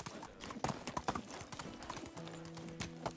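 A horse is ridden in Medieval Dynasty, its hooves clip-clopping in a steady, quick rhythm that stays fairly faint throughout.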